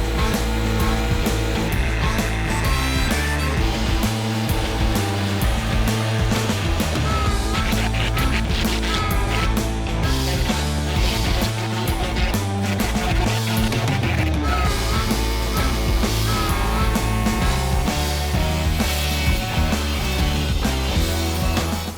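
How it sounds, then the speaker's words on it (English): A router cuts openings in wood in several passes during a van build, giving a loud, continuous high-pitched whine with gritty cutting noise that holds steady throughout. "once we router out these openings"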